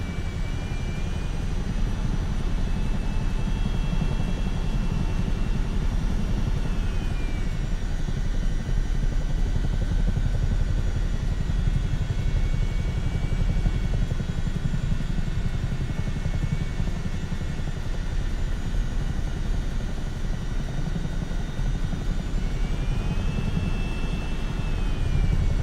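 Helicopter in Microsoft Flight Simulator, with rotor and engine running at fairly low RPM, a steady loud drone of low rumble holding evenly throughout, with no talk over it.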